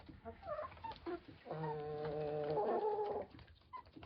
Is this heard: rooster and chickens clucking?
yes